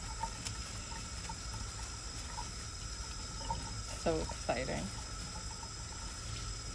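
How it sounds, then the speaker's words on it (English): Tap water runs steadily into a sink to rinse a tie-dye craft project, a continuous wash with a few brief splashy bursts near the end while people talk over it. "Why don't you turn the water on and you can Rinse while I unband."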